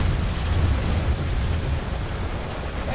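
Tank cannon fire and explosions in War Thunder, a rumbling, booming battlefield wash of blasts with heavy low end, steady and moderately loud for a few seconds without talk.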